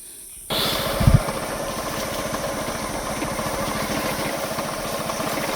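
A motorcycle rides along a muddy forest track, its engine starting up abruptly and then holding a close, steady, throbbing drone, with a brief louder burst early on.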